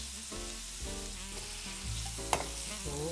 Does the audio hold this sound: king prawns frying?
yes